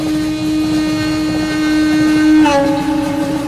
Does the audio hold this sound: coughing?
no